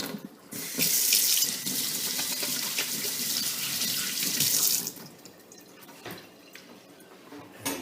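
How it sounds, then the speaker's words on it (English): Tap water runs steadily into a kitchen sink as a whole raw Cornish hen is rinsed inside and out, a loud broadband rush lasting about four seconds before the flow cuts off, leaving faint drips and handling noises. "So I'm going to wash this chicken down good, getting the water all up in the cavity, rinse it down."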